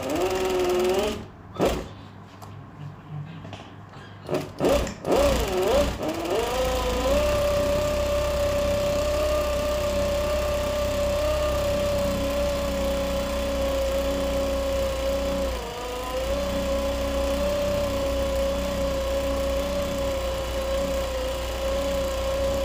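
A sewing machine stitching a zigzag sample on fabric, a few short handling clicks and knocks first, then a long, steady, close mechanical whir with a constant rhythmic hum.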